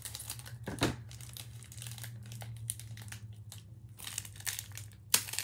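Close crinkling of plastic snack packaging with a few sharp scissor snips and rustles, irregular and handled up close, with a low steady hum underneath.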